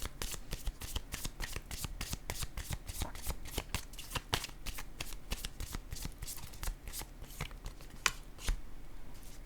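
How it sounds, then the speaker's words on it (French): Tarot cards are handled during a reading, a rapid stream of crisp riffling and shuffling snaps heard close and continuous for several seconds before a few final slaps as a card is set down. "Je vais déposer une nouvelle carte."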